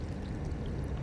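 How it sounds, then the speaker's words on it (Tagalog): Water pours into a kitten's bowl, a brief, soft, continuous splashing stream heard up close for about a second. "Sige, maglagay ako ng tubig mo."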